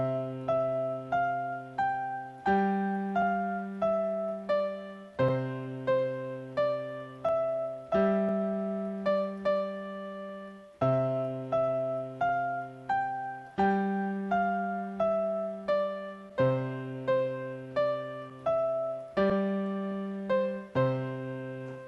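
Ode to Joy played on a keyboard with both hands, a clear melody line over a steady bass line of repeated low notes, moderate tempo, alone with no talking.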